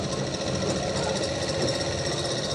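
An electric sewing machine stitches fabric in a tailoring class, a fast, steady, close mechanical whirring and rattling that runs without pause, with no talk.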